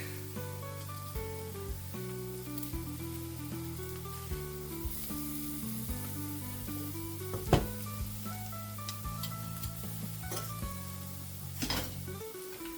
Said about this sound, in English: I will now add 3 cloves of garlic.